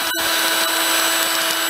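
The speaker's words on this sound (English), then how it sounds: "And just run your drill through it." Power drill reaming out a hole during assembly of a Geeetech aluminum Prusa i3 3D printer, a loud steady high whine running continuously with a brief dip near the start, close up and with no talking.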